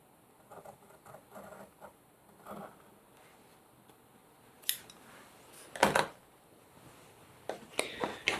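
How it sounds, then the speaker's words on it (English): Scissors snip through fabric binding for hanging storage pockets, a few soft, sparse cuts early on, then sharper, closer snips and rustles in scattered bursts. "I'm going to cut it using my scissors."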